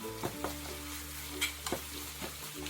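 Chili pepper is stirred into a lime pickle mixture frying in a pan with ginger and garlic, a soft steady sizzle broken by gentle scraping strokes of the spoon, close and quiet with no voices.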